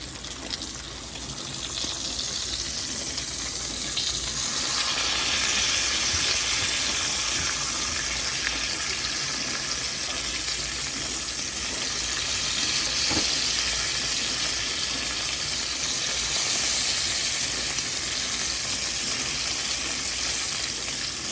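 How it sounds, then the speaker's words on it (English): Bacon sizzling and crackling in a hot pan, a steady loud hiss with a few faint pops throughout, no talking. "Listen to the bacon sizzle. We love the sizzle."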